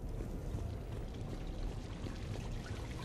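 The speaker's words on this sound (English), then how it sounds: "Oh, I can touch this waterfall." A waterfall in Mass Effect 3 (Legendary Edition) gives a steady, soft rushing pour, even and unbroken, with no voices over it.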